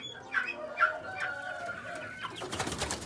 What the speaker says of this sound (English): The only two I have from my rooster over here, that's a Redjungle Fowl hybrid.